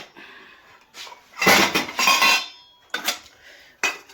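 Pots, pans and dishes clatter and clank as they are washed, in several close, loud bursts of metal and ceramic knocking separated by short pauses, with no talking.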